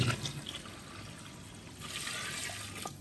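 Water pours steadily from a jug into a large cooking pot of beef nihari, a continuous splashing gush, close and moderately loud.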